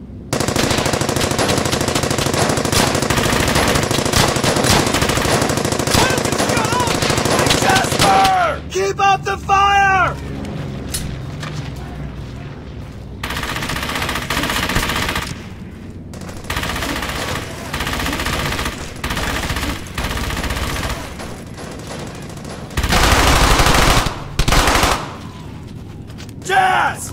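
Machine guns fire throughout a World War II battle in the shooter Brothers in Arms: Hell's Highway, with sustained rattling bursts, occasional pauses and renewed volleys, and soldiers shouting in between.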